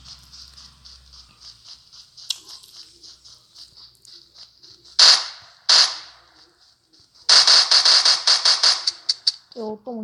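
PUBG video game gunfire: a string of sharp, loud shot bursts, including one rapid volley near the end, over a constant high electronic tone, with a voice speaking in places.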